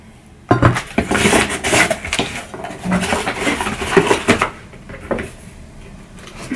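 Close metallic clattering and knocking as a metal kettle is picked up and handled, several clanks over a few seconds, then quieter.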